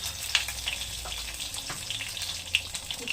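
Panch phoron spices sizzle and crackle in hot oil in a kadai for a lentil bhujia, a steady close frying hiss with scattered sharp pops and no voices.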